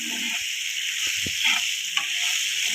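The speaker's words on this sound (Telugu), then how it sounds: "అది పచ్చి వాసన పోయేంత వరకు వేసుకోవాలి మనము నూనెలో" Raw mango pieces frying in hot oil for a mango rice tempering: a steady, close sizzling hiss, broken by a few soft clicks and scrapes of stirring.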